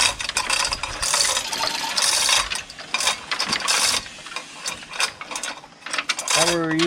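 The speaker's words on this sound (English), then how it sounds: "we were using 2 chain hoists" A chain hoist ratchets steadily while lifting the body of a 1961 Pontiac Laurentian during floor replacement, a dense run of metallic clicks and grinding close by, with no talk.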